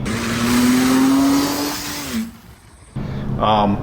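A turbocharged car engine revs up with a rising, droning pitch, then drops off; after a brief lull the engine returns, loud and close.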